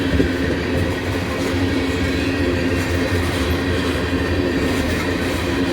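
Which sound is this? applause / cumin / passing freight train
passing freight train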